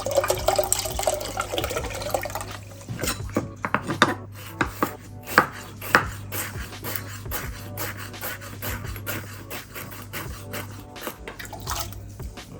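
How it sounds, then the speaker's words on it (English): A knife chops spring onion on a cutting board while wonton soup is being prepared, starting with scraping and then settling into a quick, steady run of sharp close chops over a low constant hum. "Now I'm going to cut the spring onion a little bit higher than a lot of people will"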